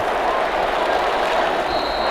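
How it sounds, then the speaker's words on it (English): Home crowd applause in a Madden NFL 21 game, Tennessee Titans vs Minnesota Vikings at the final whistle of a Minnesota win, a steady broad wash of clapping and crowd noise held at an even level throughout. "the home crowd applauding"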